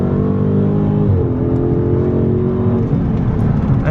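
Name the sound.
Dodge Charger Scat Pack SRT engine revving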